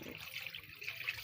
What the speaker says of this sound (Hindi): सबसे पहले हम बीफ को कढ़ाई में डाल लेंगे और उसमें पानी ऐड करेंगे।